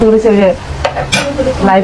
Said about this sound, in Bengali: আলু ভাজা করবো